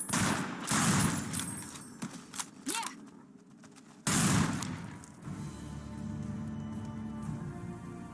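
Bursts of video game gunfire crackle in rapid volleys, loud and dense at the start and again mid-way, fading into a softer rattling background.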